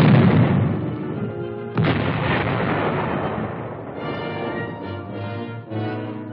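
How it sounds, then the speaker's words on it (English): Loud, heavy firing from an M44 155 millimeter self-propelled howitzer in a 1950s US Army demonstration, a booming report near the start and a second blast around two seconds in, with rumbling echoes trailing off. "The M44 155 millimeter howitzer fires a projectile weighing 95 pounds."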